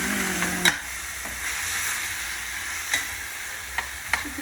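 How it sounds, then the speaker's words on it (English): Pork stir-frying with onion and garlic in a hot pan gives a steady close sizzle and hiss, with a few sharp utensil clanks and stirring scrapes along the way. "I'm going to throw in some onion, so half an onion, and one garlic clove."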